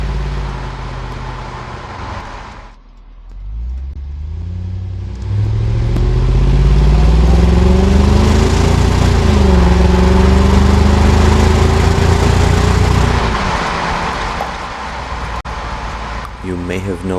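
A 2001 Jaguar XK8 engine and exhaust while driving on a road, a loud close drone that dips, then climbs steadily in pitch through acceleration, holds, and eases off near the end.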